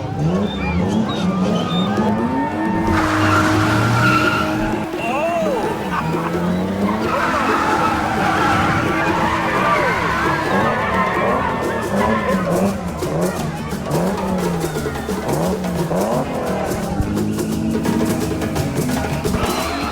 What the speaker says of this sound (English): Our tire just exploded.